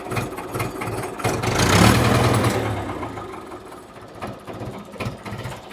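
A Mahindra 475 tractor engine starts up close by and settles into a loud, steady diesel idle.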